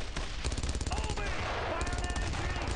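Rapid machine-gun bursts in the World War II shooter Brothers in Arms: Road to Hill 30, a dense, loud, continuous stream of shots with a voice speaking briefly over the gunfire.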